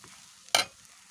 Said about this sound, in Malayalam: ചപ്പാത്തി അരിഞ്ഞ് വെച്ചിരിക്കുന്ന ചപ്പാത്തി കൂടെ ചേർത്ത് ഇളക്കിയെടുക്കാം